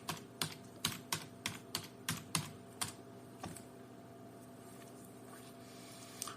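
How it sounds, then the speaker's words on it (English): A run of close, crisp keystrokes on a computer keyboard in a steady rhythm that thins out into a quiet stretch. "here I have to type configure first"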